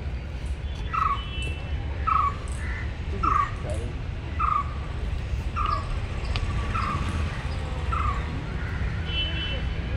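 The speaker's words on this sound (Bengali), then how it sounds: "পাখির ডাকটা শোনাই" A crow caws about eight times in a steady, evenly spaced series in an early-morning park with yellow-flowering trees, mid-distance over a constant low background rumble.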